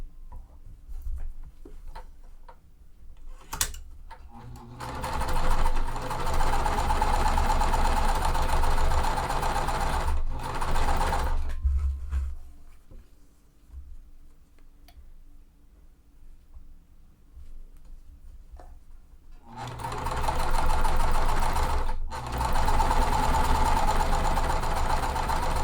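A sewing machine chain stitches quilt pieces in steady rapid runs, stopping and restarting between seams, with quieter handling sounds in the pauses. Close and moderately loud, with no talking.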